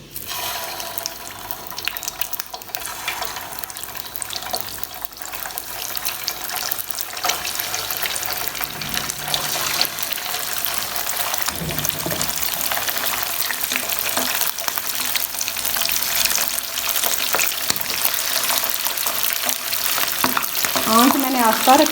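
Chicken koftas are lowered one at a time into preheated oil in a pan, setting off a frying sizzle that builds and grows louder over time, with light clinks and splashes along the way and no one speaking.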